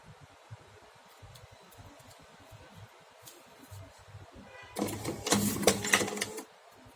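A small motorized cigarette rolling machine whirs loudly for about two seconds as it rolls a filled tube, following a quieter stretch of faint handling noise.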